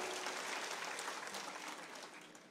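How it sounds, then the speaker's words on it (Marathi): An audience at a political gathering claps to welcome Jayant Rao, a soft, even wash of applause that sounds distant and slowly fades. "आपण सर्वजण टाळ्या वाजवून जयंतरावांचं सुद्धा मनापासून स्वागत करा"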